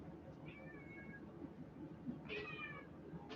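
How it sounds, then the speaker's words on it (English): A cat meows twice, a short mew followed by a longer, louder one, heard over a low steady room hum. "I'm getting distracted by the fucking cat"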